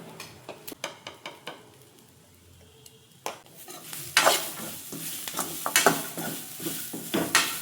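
Chicken masala frying in a pan for a Mangalore-style chicken sambar, with a spoon scraping and stirring in irregular clanks over a steady sizzle that grows louder partway through. No one speaks.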